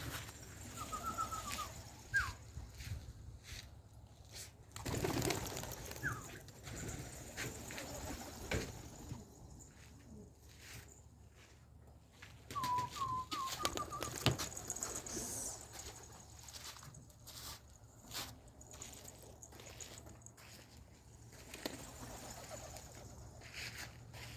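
Homing pigeons in a loft give off soft, intermittent coos and calls amid rustling and shuffling, with low background hum throughout; nobody speaks.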